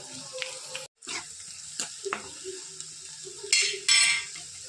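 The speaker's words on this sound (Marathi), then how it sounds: "आता तेलामध्ये थोडंसं जिरं टाकू आणि राई, कांदा टाकू." Cumin, mustard seeds and onion go into hot oil in a home kitchen, giving soft intermittent sizzling with a few scraping stirs and light clinks, fairly quiet and close.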